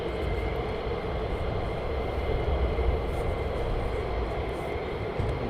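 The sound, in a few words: fighter jet at RAF Lakenheath, cleared for takeoff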